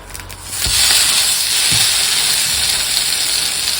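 Miso-glazed salmon sears in a hot pan, giving a steady, loud sizzling hiss that holds throughout, with a couple of soft low thumps near the start.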